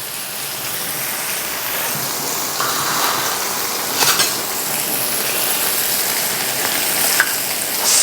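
Vanjaram fish frying in oil on a portable gas stove, a dense steady hiss of sizzling with a few brief clinks and scrapes, close and with no talk.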